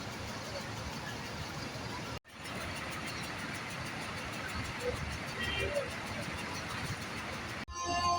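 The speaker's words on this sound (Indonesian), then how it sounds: "Bis yang saya naiki, Sugeng Rahayu yang berjuluk Voyager dan cukup kencang." A Sugeng Rahayu economy bus nicknamed Voyager drives fast on the road to Solo, its engine a steady drone with road roar. Brief cuts break the sound twice.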